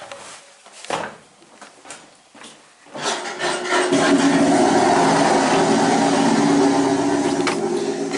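An engine room sound effect aboard the submarine USS Cobia begins with scattered knocks and scraping, then swells into a dense, steady mechanical rumble and clatter.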